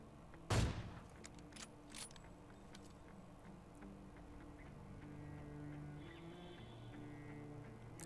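One sharp, loud AWM sniper rifle shot cracks out early in a BGMI match, followed by a quieter report and faint game ambience with light mechanical clicks.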